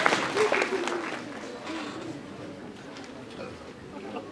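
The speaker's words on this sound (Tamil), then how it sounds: "நம்புறேன்ற ஒரு கைத்தட்டத்தை கொடுக்கலாமே, ஒரு கைத்தட்டு சார் ப்ளீஸ்." Audience applause at a police-organised anti-drug awareness event in Ooty after a card trick, a moderate scattered clapping that starts strongest and fades slightly, mixed with crowd murmur and some talking.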